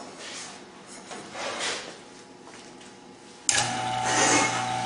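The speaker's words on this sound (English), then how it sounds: "At this point, you turn your pump on." A vacuum pump kicks on partway through, used for stabilizing wood, giving a sudden steady mechanical drone with a low hum that continues loudly after quieter background noise.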